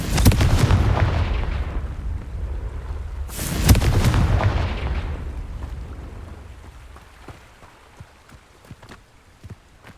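Confringo blasting spell fired in Hogwarts Legacy, two loud booming explosions a few seconds apart, each with a rumbling tail that fades, followed by faint scattered debris clicks.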